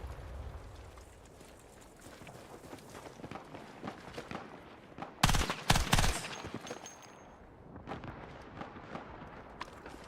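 Gunfire in a shooter video game, distant scattered shots and footsteps building to a loud cluster of close blasts midway, then settling back to a quieter rattle.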